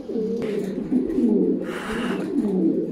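White King pigeons coo in a repeated, rolling rhythm, close and clear, several soft throaty calls overlapping for a few seconds.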